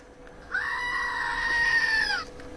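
Goat bleating once in a single drawn-out, nasal, fairly loud cry lasting under two seconds, alone over faint background hum.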